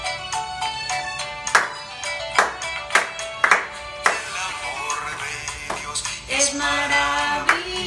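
Children at a church Bible school clap their hands in time with a worship song, sharp rhythmic claps landing among bright sung and instrumental tones.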